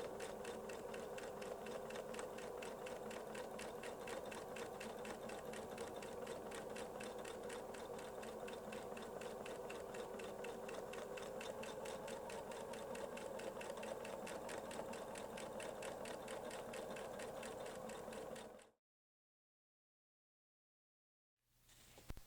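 Weightless Quilter machine stitching a clamshell pattern on a quilt, a loud, continuous rapid hum with a steady needle chatter for about eighteen seconds, then cutting off to silence.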